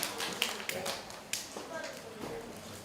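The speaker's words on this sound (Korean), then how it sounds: "자, 다 같이 박수." A short burst of scattered clapping from a small audience at a science lecture, sparse and uneven, with a voice speaking over it.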